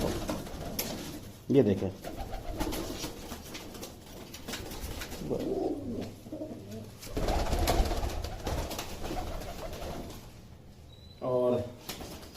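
Pigeons with clipped wings give soft intermittent coos among scattered rustles and handling noises, while someone talks over them at close range.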